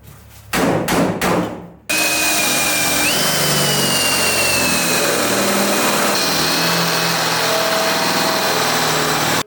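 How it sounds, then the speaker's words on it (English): A few sharp knocks, then a power drill whirs continuously at high speed for several seconds, drilling out pins on a go-kart rock crawler built from a Jeep Wrangler, its pitch shifting slightly as it bites in, before stopping. "So I'm gonna drill these out"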